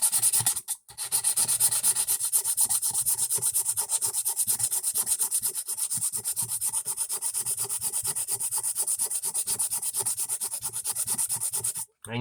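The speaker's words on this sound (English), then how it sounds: "I'm going to wire wheel this part real quick, so that way it'll get the rest of the rust out of the bits" A wire wheel grinds steadily and loudly against a rusty restoration part for about twelve seconds, with a brief dip near the start and a cut-off near the end.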